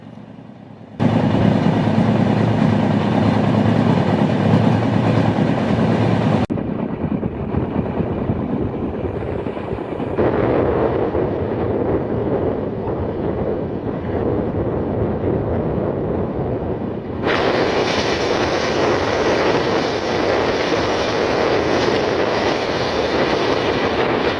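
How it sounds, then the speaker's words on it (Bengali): The Ruposhi Bangla Express passenger train runs at speed past Kashiari Junction on the Dhaka to Benapole line, heard from inside as a loud, continuous roar of wheels and carriage. Several abrupt shifts in tone suggest changing surroundings or positions. "কাশিয়ারি জংশন পার হয়ে আমাদের ট্রেন এগিয়ে চলছে তার পরবর্তী গন্তব্যের দিকে দুর্দান্ত গতিতে"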